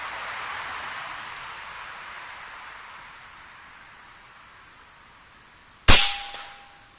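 A single sharp crack from an Air Venturi Avenger .25 air rifle rings out near the end, loud and close, after several seconds of quiet outdoor hiss, with a brief metallic ring trailing off.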